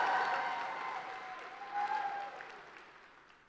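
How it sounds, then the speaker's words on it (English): A large rally crowd applauds, a dense wash of clapping that swells briefly with a few cheers and then gradually fades. "Please give yourself a round of applause."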